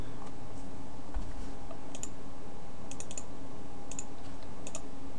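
A computer keyboard clatters as a new folder name is typed, with light, quick key clicks in short irregular bursts over a steady background hiss, close by and with no voices.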